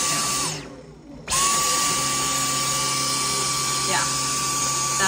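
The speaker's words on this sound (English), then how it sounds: "now I'm doing some vacuuming" A household vacuum cleaner runs loud and close during chores, its steady whine briefly dipping as the motor cuts out, then surging back to a constant drone.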